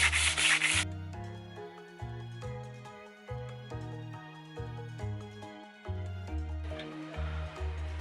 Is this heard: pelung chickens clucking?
no